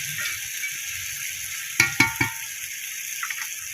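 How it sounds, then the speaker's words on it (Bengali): Cumin, nigella seeds and a little onion fry in hot oil as a tempering for a taro dish, giving a close, steady sizzle broken by a quick burst of three sharp clanks from a spoon against the pan. "জিরা দিচ্ছি একটু পেঁয়াজ দিচ্ছি আর কালি জিরা ফুরন দিছি"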